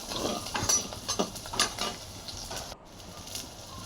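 Curry leaves dropped into hot oil for a Kerala fish curry tempering crackle and sizzle close by, with a run of sharp spitting pops over a steady hiss.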